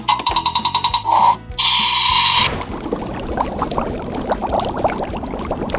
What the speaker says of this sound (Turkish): Tamam o zaman direkt ocağa koyup haşlıyorum